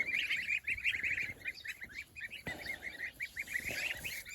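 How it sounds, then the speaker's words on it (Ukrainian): Goslings peep in a run of repeated high calls, fairly near and moderately loud, with no talk over them. "Ось такі у нас гусенятка"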